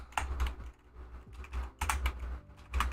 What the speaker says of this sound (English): God, keyboard.